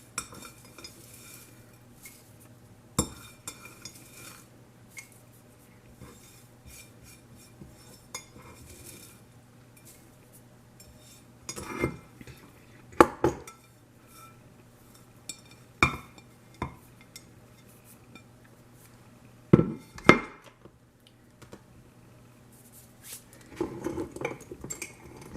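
Dried onion slices drop into a small glass jar in a quiet kitchen, giving scattered light clinks and rustles in short bursts with pauses between, close by and soft, without any talking.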